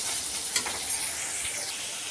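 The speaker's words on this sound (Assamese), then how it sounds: "এইখিনি অলপ ভাজি হ'লেই আলুখিনি দিম" Ginger and garlic fry in a pan before potatoes go in, giving a steady, close sizzle that holds evenly throughout with a couple of brief sharper pops.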